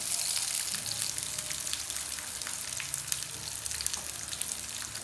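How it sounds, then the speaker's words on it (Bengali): Pieces of eggplant fry lightly in hot oil, giving a soft, continuous sizzle with scattered small pops and crackles, heard close and alone without any voices. "আমি এখন বেগুনগুলো এক এক করে দিয়ে দিচ্ছি। হালকা করে ভেজে নিব, বেশি ভাজবো না"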